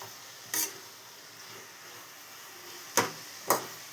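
Grated carrot cooks in ghee in a pan with a faint, steady sizzle, broken by three sharp clacks of a stirring spoon against the pan.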